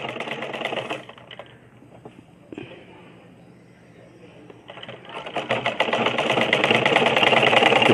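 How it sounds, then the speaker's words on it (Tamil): A sewing machine stitches a blouse seam with a quarter-inch allowance. It whirs in short bursts and pauses, then speeds into a loud, continuous run, and a person talks over it. "இப்போ ரெண்டாவது தெல் தைக்கிறேன் 1/4 இன்ச்சில்."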